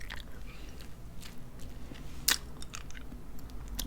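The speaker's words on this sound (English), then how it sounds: "To start this video out, I'm sucking on a piece of candy." Hard candy clicks and shifts in a mouth during close-up soft-spoken ASMR, with quiet wet sucking and small crunchy clicks and one sharper click partway through, and no speech.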